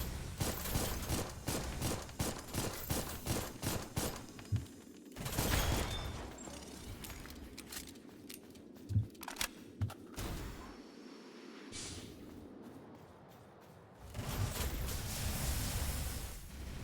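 Repeated shotgun-style blasts from a video game, a burst of rapid shots followed by scattered single and double reports with pauses between, loud and close amid game background noise.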